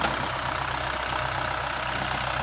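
A tilling machine used for working the soil runs steadily, a continuous mid-to-low engine drone with a faint knocking pulse, close and unbroken, with no talking.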